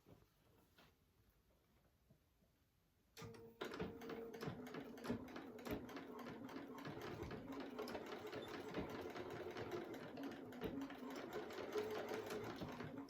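A sewing machine stitches across thick folded fabric for a crochet needle case. After a quiet start it kicks in suddenly and runs steadily with a fast, even mechanical chatter, close and clear.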